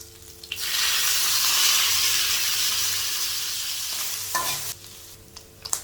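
Pre-boiled boneless chicken hits a hot pan and fries with a loud bright hiss that slowly fades over several seconds. A few spatula scrapes and clatters follow as the pieces are stirred, with no talking.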